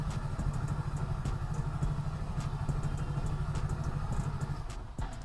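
A motorcycle engine idles close by with a steady low throbbing rumble and some light clatter, running continuously before dipping briefly near the end, with no talk.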